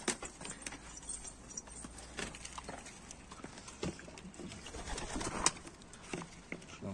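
Homing pigeons feed close by, with soft cooing, wing flutters and pecking taps scattered over quiet background noise.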